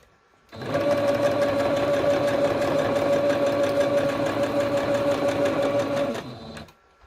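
A rethreaded sewing machine starts up and stitches steadily for several seconds with a loud, even mechanical whir and rapid needle clatter, then stops abruptly.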